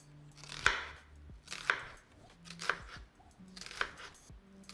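Knife chopping a quarter of a red onion on a cutting board, four distinct cuts spaced about a second apart, close and crisp.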